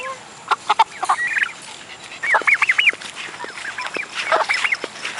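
Chickens in a backyard coop, among them a very fat bird, give a run of clucks and squawky calls that come in short bursts and overlap. The sound is fairly loud and close.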